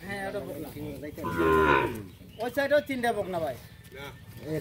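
A Sahiwal bull lets out a long, loud moo nearby, mixed with people talking close by at a cattle yard.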